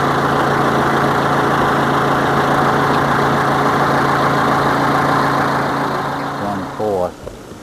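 A loader's diesel engine idles steadily with a low, even drone during house and barn demolition, loud and close, then dips and sputters briefly near the end.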